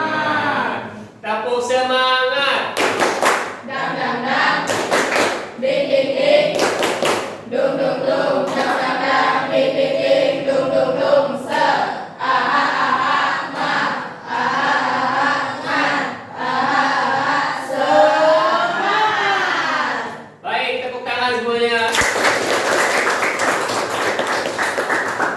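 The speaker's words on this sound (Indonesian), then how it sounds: "Tepuk semangat" A classroom of students performs a rhythmic spirit clap together, with sharp clustered claps cutting through loud chanting voices in a steady pattern.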